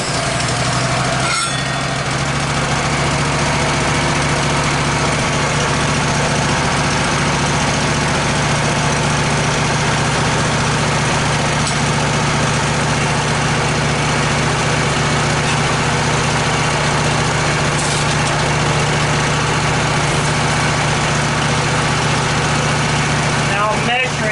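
An LT15 sawmill cutting a small 9-foot log, a dirty mill slightly out of gauge, runs as a steady engine drone with a continuous low hum and broadband whine, loud and unbroken throughout.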